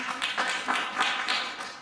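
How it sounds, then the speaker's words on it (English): Scattered applause at a virtual gala honoring the event volunteers: a short patter of a few people clapping, thin and moderately close, fading out after under two seconds with no talk. "Raise your glass of wine and give her a round of applause"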